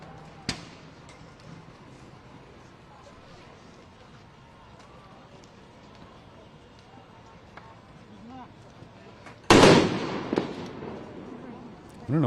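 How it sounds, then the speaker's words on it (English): Explosions at a street protest in Los Angeles: one sharp crack early, then a sudden loud bang and a burst of rumbling pops near the end, with a voice talking over the scene. "I don't know what those explosions are."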